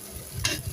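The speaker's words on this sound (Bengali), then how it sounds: "এখন আমি শিং মাছগুলো দিতেছি। এখন ভালো করে নাড়া দিয়ে আবার" Shing fish frying in a pan are stirred, giving a brief close scrape of the spoon over a steady sizzle of hot oil.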